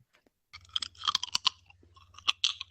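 Crunchy food is chewed close to the microphone, with loud irregular crunching bites over a steady low hum, and no talking.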